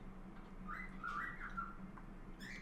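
A young pet bird only a few months old gives soft warbling whistles and chirps in a short run, faint and alone over a low steady hum.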